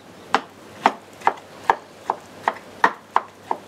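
A knife chopping eggplant by hand on a cutting board, with nine steady, evenly spaced close thuds and no talking.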